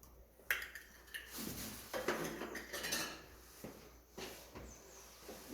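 Sugar scraped out with a utensil into a bowl of marinade for Korean neobiani beef, giving clinking and scraping metal-on-dish sounds in short, uneven strokes, close and fairly quiet, with no speech.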